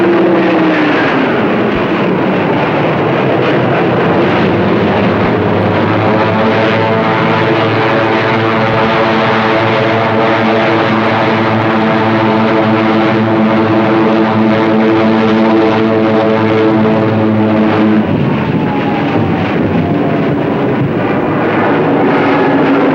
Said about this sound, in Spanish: 5 escuadrones de Hurricanes y Spitfires despegaron de las pistas y se lanzaron a los cielos